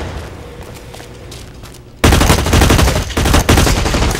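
Rapid automatic gunfire in the shooter game Blacklight Retribution starts abruptly after a quieter stretch and continues as loud, close bursts of shots with brief dips in between.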